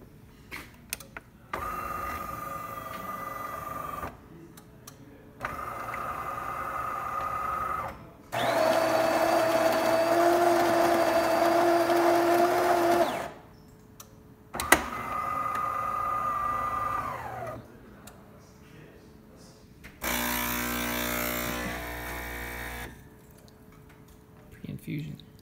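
A DeLonghi Perfecta bean-to-cup coffee machine runs through a brew cycle after a deep clean and descaling, with several loud whirring and humming pump and grinder bursts separated by short pauses, and a voice speaks between them.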